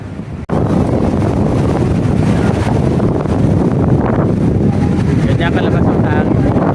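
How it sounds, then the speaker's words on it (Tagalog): Strong, steady wind at a beach in Ternate, Cavite roars across the microphone in a constant broadband rush, loud and unbroken after a brief quiet start. "Ganyan kalabas ang hangin."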